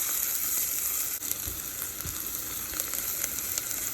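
Onions fry in oil as they brown, giving a steady, close hiss with fine crackling all the way through and no talking.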